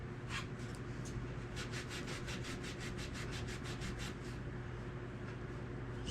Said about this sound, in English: We can wipe that excess glue off